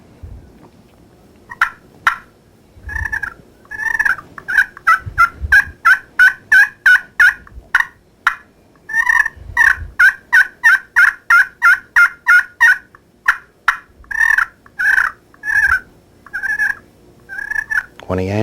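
A hand-operated turkey call used for spring turkey hunting imitates turkey gobbles in loud, rapid bursts of rattling notes, repeated in several clustered runs with short pauses between them.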